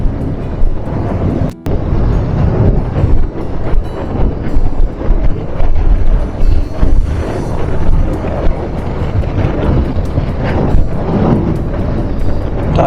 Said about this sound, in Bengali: তারপর হাওয়াও দিচ্ছে।